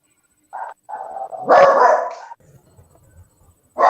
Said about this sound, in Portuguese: segura o cachorro